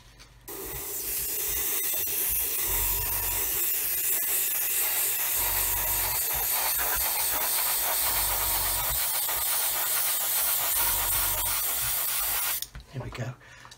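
A steady, loud airbrush hiss sprays a gloss coat on a 1/144 scale model aircraft wing continuously for about twelve seconds, then cuts off abruptly, leaving a few brief clicks.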